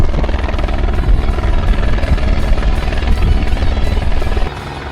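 A helicopter lifts a stranded Cessna light aircraft out of marshland, its heavy rotor thump and turbine drone loud and steady throughout, easing slightly near the end.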